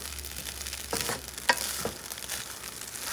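Fennel seeds and aromatics frying over low heat in a pan for a beef stir fry, a soft continuous sizzle broken by a few scraping stirs, no talking.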